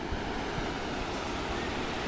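Broad, steady rushing of the Ganges River at Rishikesh, India, a dense continuous wash of flowing water close by with no talk.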